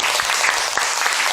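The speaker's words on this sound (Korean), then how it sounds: "박수로 맞아주십니다." A lecture-concert audience claps to welcome a guest speaker in a brief burst of close, fairly loud, even applause.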